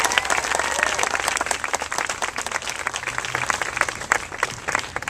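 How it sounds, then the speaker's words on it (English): A crowd applauds at an outdoor We Garden ceremony for an edible garden at a state capitol, steady dense clapping filling the whole stretch at moderate loudness with a few sharper individual claps. "we need to give the First Lady another round of applause for her leadership."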